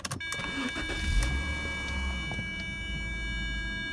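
The engine of a 1992 Jaguar XJ6 starts with a brief crank and catches, then settles into a steady, close idle. A faint whine and a high tone run over it, and no one speaks.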